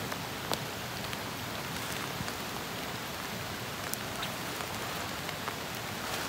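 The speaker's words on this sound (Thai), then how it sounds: "ฝนกระตุกดีครับ" Steady rain pours down outdoors during an afternoon of setting fishing lines, a dense, even hiss with scattered louder drop impacts, close and continuous throughout, with no talking.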